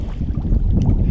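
Strong wind buffets the microphone on a lake during a fishing scouting trip, a loud, low, rumbling roar that continues throughout.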